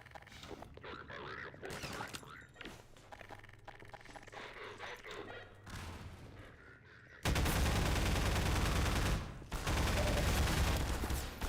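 Shotgun gunfire in the shooter game Half-Life 2: scattered shots and clattering action early on, then loud, heavy bursts of blasts dominating the second half, with a voice talking over the first part.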